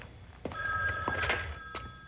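A telephone rings with a steady electronic trill lasting about a second, moderately loud indoors, with soft background noise and faint thumps around it.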